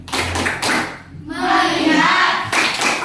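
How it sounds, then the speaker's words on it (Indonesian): Classroom of children doing a concentration clap routine, a burst of rhythmic hand claps mixed with children's chanting voices, loud and close. "Tepuk konsentrasi."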